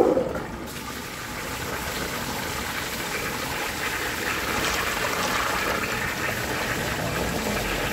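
A 1983 American Standard toilet flushes, opening with a sharp near rush of water that settles into a steady, even gush and swirl for several seconds with no one talking.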